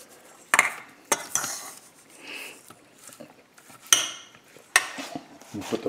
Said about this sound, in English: the thyme and the bay leaf I'll throw into the pot with the vegetables